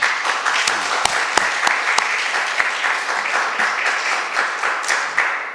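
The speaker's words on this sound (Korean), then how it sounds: "여운숙 장로님 네 분, 한번 일어날 때 박수로 환영해 주십시오" A church congregation applauds steadily to welcome elders, sharp individual claps standing out from the continuous crackle of the crowd.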